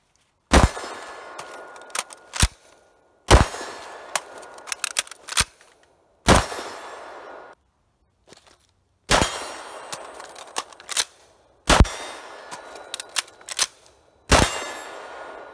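Magazine release and reload on a QBZ-95 bullpup rifle: a series of sharp, loud metallic clacks and clicks, several strong impacts separated by short pauses, each followed by smaller rattling clicks, heard alone without talk.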